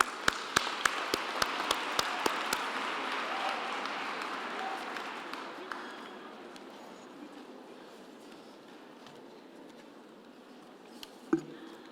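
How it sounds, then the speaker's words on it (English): An audience at a Qwaqwa graduation ceremony applauds its graduates, a few sharp distinct claps at first swelling into a bright, sustained round of clapping that gradually thins and fades toward the end. "I think we can give our graduates another hand of applause."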